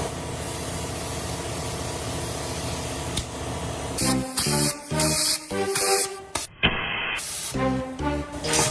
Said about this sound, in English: Time for the air compressor.